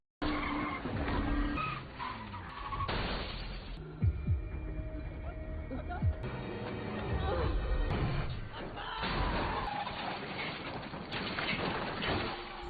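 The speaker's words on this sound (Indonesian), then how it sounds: "mobil pun berputar lalu menabrak" In a film scene, a car spins out with long squealing, skidding tires, followed by heavy thuds as it slams into a road barrier, with some voices mixed in.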